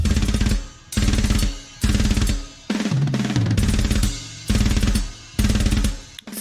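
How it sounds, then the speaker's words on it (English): A drum kit plays a relentless, extremely fast machine-gun blast roll in loud repeated bursts of about a second each, separated by brief gaps, with dense cymbal wash over rapid drum hits. "He's doing ridiculous machine gun drumming"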